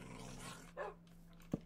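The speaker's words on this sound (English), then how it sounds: "specifically some of the dog growls, to be honest" Minecraft wolf dog growls once in a low rumble near the middle, followed by a short thump, faint over a steady game background hum.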